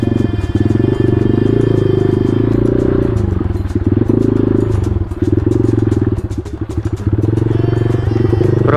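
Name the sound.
motorcycle riding on muddy trail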